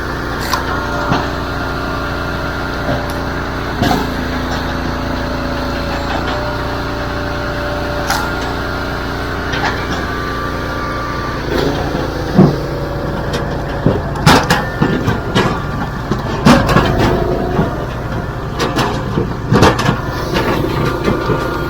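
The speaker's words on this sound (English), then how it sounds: "I've never seen this in operation. What a wood splitter." A wood splitter runs with a steady engine drone, and knocks and clunks from the machine and wood grow busier in the second half.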